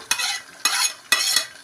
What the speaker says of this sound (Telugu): ఇప్పుడైతే ఇగో ఇందులో వేసాను ఉల్లిపాయ, లవంగాలు, ఏలకులు, చెక్క, జాజికాయ, ఎండుమిరపకాయ ఒకటి, అలాగే ఇగో టమాటాలు వేస్తున్నా